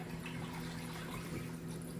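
Saltwater poured from a small pail back into a home reef aquarium during a routine water change, a steady close splashing rush of liquid with an underlying low hum, no voices.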